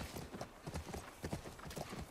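Horse hooves clip-clop in a steady, rhythmic gait in the video game The Last of Us Part 1, the hoofbeats faint and alone with no talking.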